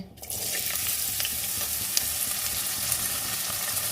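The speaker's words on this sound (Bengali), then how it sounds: "এবার এই আলুগুলো দিয়ে দিচ্ছি" Potatoes hit hot oil with cumin seeds and chillies, bursting into a loud, dense sizzle that holds steady with faint stirring scrapes.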